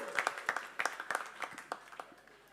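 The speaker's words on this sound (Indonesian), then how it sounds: "sekali lagi tepuk tangan buat Kak Sintia." Scattered hands clap in sparse, uneven bursts from a small audience at an album launch event for a local orchestra band, fairly faint and thinning out after a couple of seconds.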